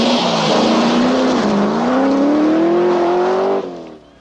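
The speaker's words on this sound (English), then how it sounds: "Marco Alen, happier with the Stratos on the smoother Lake District stages." A Lancia Stratos rally car on a smooth Lake District forest stage gives a loud, close engine howl that climbs in pitch through the gears, drops briefly on a shift, then quickly fades as the car pulls away.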